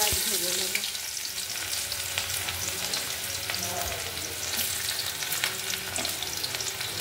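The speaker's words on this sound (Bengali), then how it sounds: "এবার একটু অল্প করে আলু সেদ্ধ মাখার জন্য পেঁয়াজ ভেজে নেব।" Onions sizzle steadily in hot oil in a pan, a dense continuous frying hiss with a few faint clinks of a ladle, no voices.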